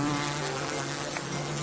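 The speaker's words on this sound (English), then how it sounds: "a massive swarm of bees" A massive swarm of bees hums continuously, a dense steady buzz filling the whole span at even loudness with no voices.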